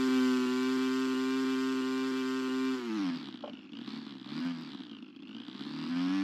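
An RC model airplane motor howls at full throttle with a steady high whine, then drops and wavers in pitch as the plane pulls through 3D turns, growing faint and rising again in the distance.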